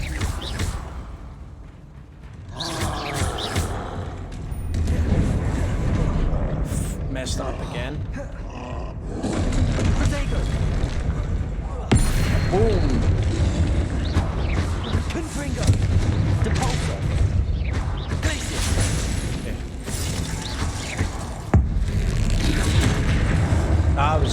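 Confringo, an explosive spell cast in Hogwarts Legacy, bursts amid a loud, dense stretch of game combat full of booming blasts and roaring effects, with a player talking excitedly over the action.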